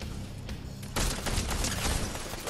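Shotgun fire in a multiplayer video game match, a muffled burst early on followed by a dense, loud volley of rapid blasts and crackling impacts that carries through the end.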